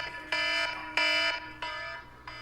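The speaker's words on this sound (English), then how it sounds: "He's going to have a timer and a buzzer for us." A producer's timer buzzer sounds four times in a steady rhythm, each loud, harmonic electronic blast lasting about a third of a second, with nothing else heard.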